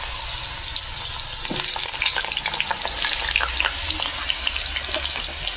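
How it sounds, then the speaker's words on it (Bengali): Potatoes fry in hot oil in a kadai, a loud bright sizzle that swells sharply partway through and keeps crackling and spitting steadily up close, with no voices. "প্রথমে আলুগুলো আমি ভেজে নেব।"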